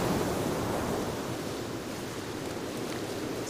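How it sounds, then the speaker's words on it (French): Strong storm wind in the survival game Sons of the Forest, a dense, continuous roaring rush that is fairly loud and fades only slightly, with no voices. "Le vent est très très fort."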